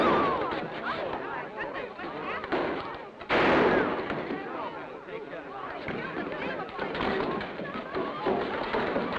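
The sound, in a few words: gunshot in a Western gunfight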